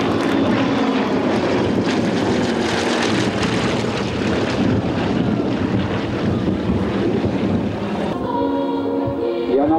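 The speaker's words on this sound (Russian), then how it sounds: "это единственная пилотажная группа в России на самолетах этого типа" Aerobatic team airplanes of a single type roar overhead at an airshow, a loud continuous engine drone with wind rumble filling the whole stretch, the pitch shifting near the end as the formation passes.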